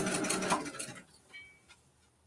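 A sewing machine runs a short burst stitching a label onto a Kimberbell mini quilt, fairly close, then stops, leaving faint rustling handling sounds.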